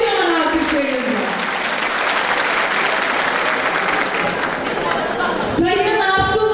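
A Turkish crowd at an outdoor Yörük Türkmen festival in a village claps loudly and continuously, dense applause holding steady before a voice comes in over it near the end.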